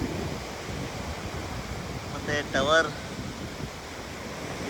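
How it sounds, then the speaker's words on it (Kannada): Sea waves wash on the Mangalore coast at night, a steady low roar of surf mixed with wind buffeting the microphone, and a person speaks briefly partway through. "ನೋಡಿ ಸಮುದ್ರ ಅಲೆಗಳ ನರ್ತನ"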